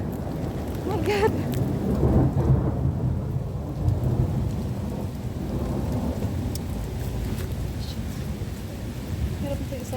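Heavy rain pours steadily through a lightning storm while thunder rumbles and booms close by, a dense wash of noise with occasional distant voices beneath.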